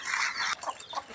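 A chicken clucking close by in a rural yard at dusk, a short run of bright, raspy clucks with no talking.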